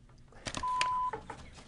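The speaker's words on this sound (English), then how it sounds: "Oops, we have a phone call." A single steady electronic ring tone of an incoming phone call cuts in on a call-in sports show, holding for about half a second between brief clicks and low studio noise.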